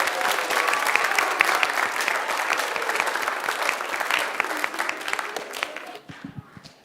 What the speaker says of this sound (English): Can we have one last round of applause for these awesome students and all their work?